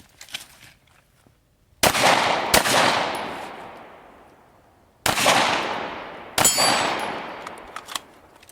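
Pistol gunshots at a shooting course, four sharp loud cracks in two close pairs, each ringing out with a long decaying echo, and no talk between them.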